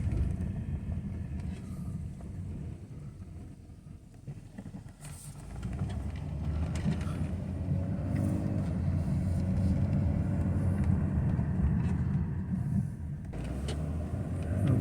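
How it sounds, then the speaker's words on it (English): A 1998 BMW 528 with transmission issues out on a test drive, its engine and road noise a steady low rumble that swells and holds louder through the middle and end, with no talking. "And let's take a test drive, see how the transmission is."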